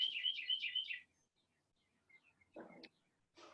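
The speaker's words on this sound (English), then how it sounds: "You've got some birds, and you got some birds in that backyard there, Cash Man" Small birds chirp in a backyard, a quick run of high tweets followed by scattered fainter calls and short bursts, thin and fairly distant.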